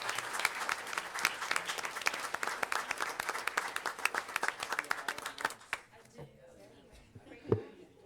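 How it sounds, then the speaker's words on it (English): Dense applause from a crowd at a school board meeting, steady clapping that fades out after about six seconds, followed by a few scattered claps. "How about a round of applause for these folks?"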